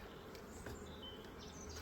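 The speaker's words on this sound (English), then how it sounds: "I'm upsetting the bees down there because I put something in their way" Disturbed honeybees buzz around a hive while a beekeeper pots a super, a faint, continuous droning hum with a few louder wingbeats passing close.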